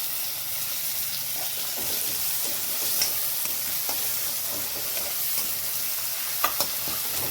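Chopped tomato frying with browned onion in a pan while being stirred, a steady bright sizzle with scraping stir strokes and a few sharper clicks, close and continuous with no talking.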